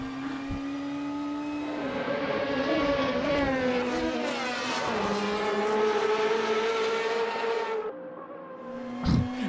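A racing-car engine in the Assetto Corsa driving game, a Ferrari 458 or BMW M3 in an online race, howls steadily at high revs, its pitch climbing and dropping through gear changes, loud and continuous with no talking.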